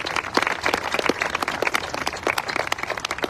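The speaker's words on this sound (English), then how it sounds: "can we please give them a warm round of applause?" Audience at an opening ceremony in San Antonio applauding Canary Islands family descendants: steady, dense crowd clapping with sharp individual claps throughout, fairly close and sustained.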